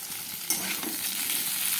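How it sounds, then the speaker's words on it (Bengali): Cumin and other spices fry in oil in a pan for fish curry, giving a steady bright sizzle with a sharper burst partway through and light stirring, no voices. "এই যে একটু ভাজা ভাজা করে মশলা রেডি করে রাখছি, জিরা দিয়ে রান্না করবো"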